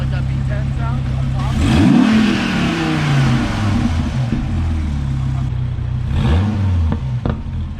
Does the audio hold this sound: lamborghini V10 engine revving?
yes